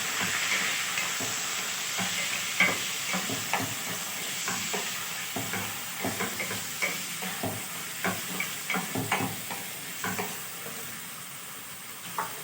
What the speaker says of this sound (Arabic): كده هنزل بالكبده، هتاخد لها تشويحه حلوه كده